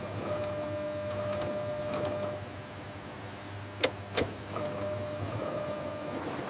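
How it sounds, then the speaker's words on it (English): Precision textile machinery turning raw material into synthetic fabric for sofa upholstery in a factory, giving a steady mechanical hum and whir with two sharp clicks in the middle. "Precision machinery flawlessly transforms raw material into luxurious synthetic fabric."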